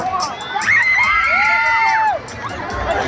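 A concert crowd in Dagupan City cheers and shouts loudly together, many voices screaming and whooping at once in a sustained roar that dips near the end.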